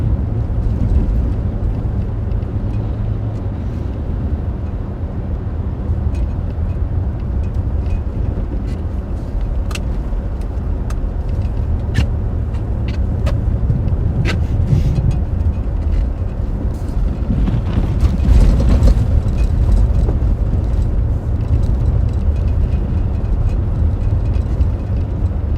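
A car driving through a historic blizzard in New Orleans, a steady loud cabin rumble of engine, tyres and wind that swells near the end, with scattered clicks and little talk.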